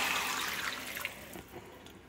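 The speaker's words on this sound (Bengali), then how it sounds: "এবার জল দিয়ে দেবো।" Water is poured into a pan of frying potatoes for a poppy-seed potato dish, giving a brief, fairly quiet rushing hiss that gradually fades.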